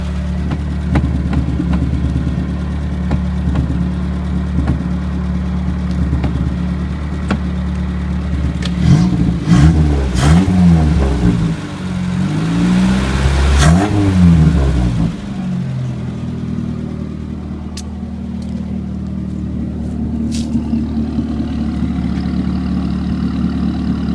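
A car with a seized master cylinder idles steadily, then revs up and down in a few sharp bursts before settling back to a low idle, close and loud.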